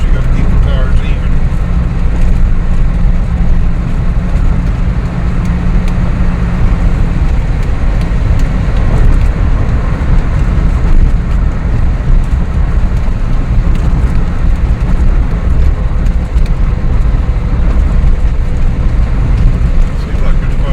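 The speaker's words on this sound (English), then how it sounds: "Seems like there's quite a bit of traffic today." Road traffic on a busy Saturday near San Carlos, Negros Occidental, a constant loud roar of passing vehicles heard from inside a moving car, with people talking over it.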